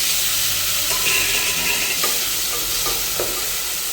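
Onions and tomatoes frying in oil with mustard seeds, curry leaves and green chillies for a fish curry, a loud close sizzle with crackling and occasional scrapes of stirring, no voices.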